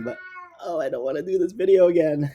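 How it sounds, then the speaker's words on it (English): A cat meows loudly and insistently at close range, while a person keeps talking over and around the cries. "oh my goodness, that's my cat."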